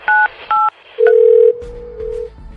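A telephone keypad gives two short beeps, followed by a long steady tone and then a lower tone as an emergency number is dialed. The sounds are clear and close, with no voices.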